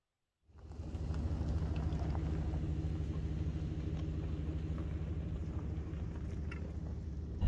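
A camper van drives on a road, its steady low engine and road rumble continuous and fairly loud throughout, with faint rattling from loose brake pads mixed into the drone; no one speaks.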